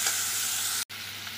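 Spiny gourd (kakrol) sliced and frying in a pan over medium flame, with salt and turmeric, giving a steady close sizzle with one very brief break.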